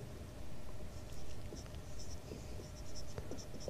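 Steady scratchy strokes of writing during a Class 9 maths lesson on congruence of triangles. The short bursts are soft and close, with no one speaking.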